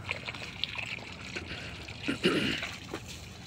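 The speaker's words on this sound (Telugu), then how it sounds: "టమాటా చెట్లకు నీళ్ళు పడుతున్నా." Water trickles and pours in short uneven bursts onto tomato plants, fairly close, with faint background noise and a brief splash near the end.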